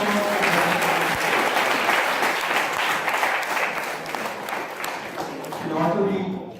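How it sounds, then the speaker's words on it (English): Full, loud applause from a conference audience after a keynote at an educational event in Pune. The sustained wash of many hands continues for several seconds, with faint voices mixed underneath. "So please, give full applause."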